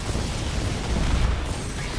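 A fiery ignition explosion in Destiny 2 roars as a dense, loud rumbling burst that fills the whole moment without pause.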